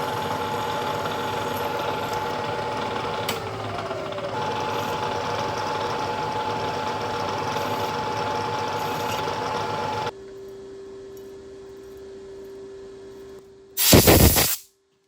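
Drilling a hole in a metal flat bar with cutting lubricant: a steady, loud machine drone for about ten seconds, then a quieter hum, and a brief sharp hiss near the end.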